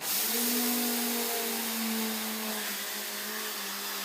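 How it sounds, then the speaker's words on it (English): A small electric coffee grinder whirs loudly and steadily for a few seconds, its motor pitch sagging slightly as it grinds sesame seeds. "I always take my coffee grinder to make quick and nice dressings and healthy ones."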